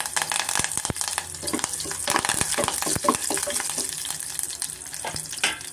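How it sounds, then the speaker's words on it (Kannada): Fresh curry leaves fry in hot oil for a tomato kurma side dish, loud and close, with sharp crackling spits and pops over a continuous sizzle, alongside some stirring. "ಫ್ರೈ ಆದ ತಕ್ಷಣ ಸ್ವಲ್ಪ ನಾನು ಕರಿಬೇವು ಹಸಿ ಕರಿಬೇವು ಸೇರಿಸ್ತಾ ಇದ್ದೀನಿ"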